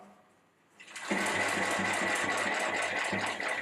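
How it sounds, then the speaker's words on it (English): Sewing machine stitching down a bag panel during a rework, starting after a brief quiet moment and then running in a steady, fast, loud mechanical chatter to the end. "then we stitch all the way down to the bottom"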